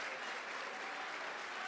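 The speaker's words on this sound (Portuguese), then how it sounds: "aplauda o Senhor Jesus," Church congregation at a state convention applauding during a sermon, a steady wash of many hands clapping, soft and somewhat distant, with no voices standing out.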